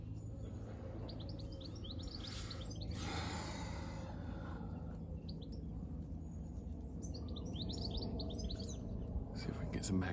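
Small birds chirp in quick bursts beside a fishing lake, faint and somewhat distant over a low rumbling background, with a voice speaking at one point.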